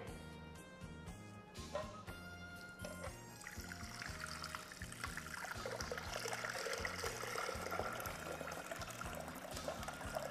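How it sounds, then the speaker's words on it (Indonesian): Water poured into a sizzling stir-fry in a home kitchen during Chinese New Year cooking, a soft trickling splash that swells into steady bubbling and hissing over a faint background tone, no voices. "kita sekarang masukin airnya"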